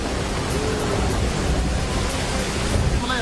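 Heavy monsoon rain pouring down in Pune, a dense, steady hiss of falling water that stays loud and unbroken throughout, with no voices.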